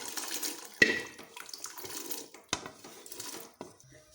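Boiled kidney beans and water tipped into a pan of frying masala while cooking lobia, giving wet splashing and sloshing with a few sharp clatters, close and moderately loud, no talking.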